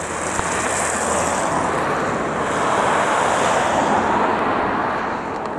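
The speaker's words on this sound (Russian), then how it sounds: "Машины едут." Steady rushing wash of cars driving by on a street in Chervonograd in January, a continuous broad roar of traffic close to the microphone, with no voices.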